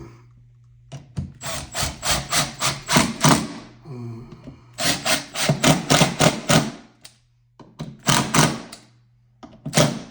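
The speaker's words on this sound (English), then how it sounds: "Get them threaded in nice and straight." Screws driven into wooden drawer faces on drawer boxes, loud close-up bursts of rapid buzzing from the driver with brief gaps between each screw.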